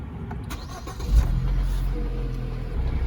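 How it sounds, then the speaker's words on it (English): A Jeep Cherokee engine cranks and starts up close, the catch at about one second settling into a steady low idle rumble that holds to the end. "All right, so then it says start the engine."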